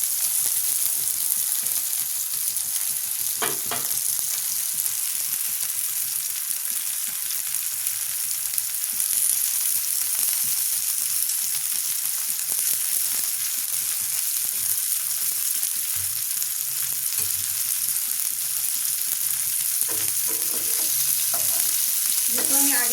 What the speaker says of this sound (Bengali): এখানে আমি ভাজতে শুরু করে দিয়েছি অলরেডি। ভাজতে দিয়ে দিয়েছি।